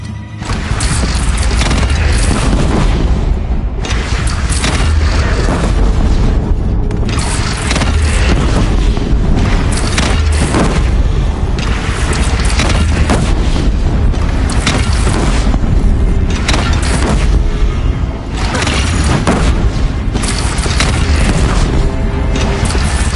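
A cannon fires repeatedly during a bandit battle in Horizon Zero Dawn, heavy booms and crashes landing over a loud, dense rumble of fighting that runs on without a break.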